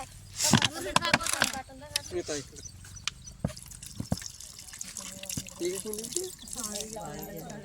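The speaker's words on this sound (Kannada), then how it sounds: "ನೀರು ಹಾಕು" Water pours and drips in close splashes and trickles at an agricultural centre where a water snake is being handled, heard under overlapping voices.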